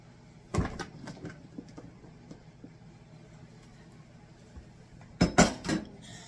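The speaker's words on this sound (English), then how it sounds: "Now we're going to put it on our baking sheet." Seasoned turmeric chicken pieces are tipped onto a metal baking sheet, with two sharp clattering metallic knocks several seconds apart and quiet shuffling scrapes between them in a kitchen, no talking.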